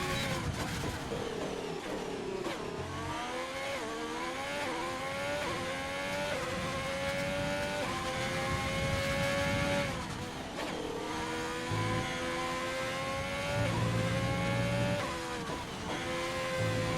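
Race car engine in a realistic racing video game at the Austrian circuit, revving and shifting continuously through slow corners with rising and falling pitch, loud and steady throughout, with brief downshifts and no talk.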